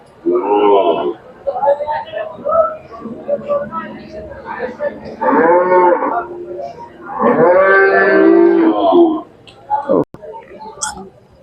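Khillar cows moo loudly and close by at a cattle market in Sangola, Maharashtra, several long, drawn-out calls one after another with short pauses between them.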